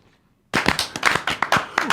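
A crowd bursts into applause after a brief quiet moment, sustained clapping with sharp individual claps standing out near the listener.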